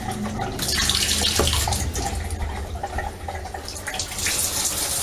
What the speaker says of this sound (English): the other thing I didn't check was the shower